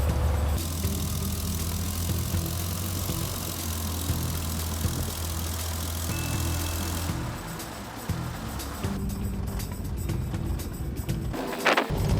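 A 1988 Toyota FJ62 Land Cruiser driving, its engine droning loud and steady with road rumble for most of the stretch, easing off near the end before a short sharp knock.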